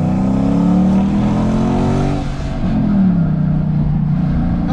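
A Mercedes-Benz CL 63 AMG with a 6.2-litre V8 accelerates in sport mode, the engine rising in pitch through two pulls with a short dip between shifts, loud and heard from inside the car.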